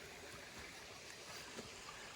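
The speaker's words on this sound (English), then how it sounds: "This is West Chairback stream, so it's the water source for the pond" West Chairback stream in the 100 Mile Wilderness, a faint, steady wash of flowing water with occasional soft trickles, continuous and fairly quiet.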